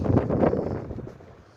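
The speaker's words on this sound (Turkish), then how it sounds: "Şu anda ya rüzgar işte" Steady low wind rumble buffeting the microphone on an open pasture where sheep graze, fading slightly toward the end.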